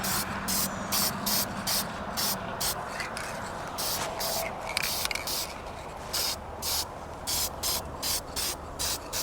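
A spray can lays a first coat of gold paint on a truck part, repeated short hissing bursts in an irregular rhythm, close and loud, with a voice murmuring faintly in between.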